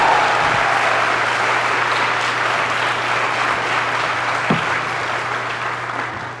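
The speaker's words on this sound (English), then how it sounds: "I want us to give a round of applause to this amazing choir behind me." An audience at a convocation applauds a choir with sustained, dense clapping that fills the hall steadily and fades slightly toward the end.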